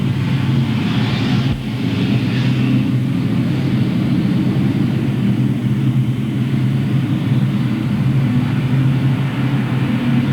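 Street stock race cars roar into turns 1 and 2 at Louisville Motor Speedway, a loud, steady wall of engine drone from the pack with no break across the whole stretch.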